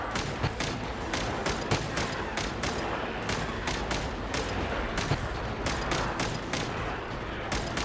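Rapid repeated gunshots crack in a steady, evenly spaced rhythm during a shooting minigame in Genshin Impact, loud and continuous over a busy game soundtrack.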